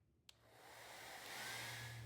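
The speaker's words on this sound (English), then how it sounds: "More hair dryer treatment." A hair dryer, used to heat parts of a vintage Rockwell Porta Band 725 saw during reassembly, clicks on and rises into a steady, close whooshing blow with a low motor hum underneath; no one speaks.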